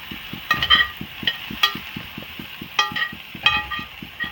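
Zucchini and carrots are stirred in a sizzling pan, with a steady fry hiss underneath. Utensil scrapes and metallic clinks land in a loose repeating rhythm, close by, with no talking.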